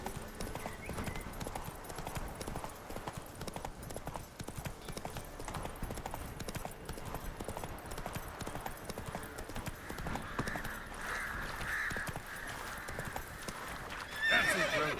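Roach, a horse in The Witcher 3 video game, gallops for a long, steady run of clip-clopping hooves, with a neigh and snorting rising toward the end.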